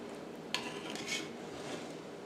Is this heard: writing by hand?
no